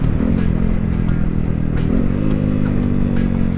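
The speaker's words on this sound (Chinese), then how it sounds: "然后你看我这样退档，又有滑动式离合器" A Yamaha R15 V4 motorcycle downshifts with its slipper clutch, the engine drone loud and close and dipping in pitch through the gear changes, with some mechanical clatter and no talking.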